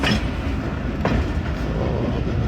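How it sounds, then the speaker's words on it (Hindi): Jaffar Express passenger train pulling into platform 3 at Rawalpindi railway station, a steady loud rumble of rolling wagons with a brief squeal of wheels midway, on a foggy winter day. "40 डाउन जाफ़र एक्सप्रेस का अराइवल हो रहा है रावलपिंडी रेलवे स्टेशन के प्लेटफार्म नंबर 3 पे"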